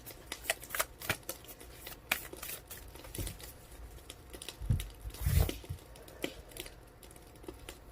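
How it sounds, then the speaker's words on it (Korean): Tarot cards being shuffled and drawn by hand, giving a run of soft, irregular flicks, slaps and riffles that stay close and fairly quiet, with a fuller burst of shuffling near the middle. "카드 조금 뽑아 볼게요"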